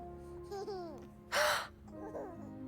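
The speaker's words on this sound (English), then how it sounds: "Big gasp." A character in the video game Xenoblade Chronicles 3 lets out a single sharp, breathy gasp, loud and close, set between soft voiced sounds and quiet background music.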